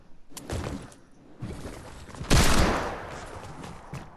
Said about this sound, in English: Yeah, I hear the hand cannon.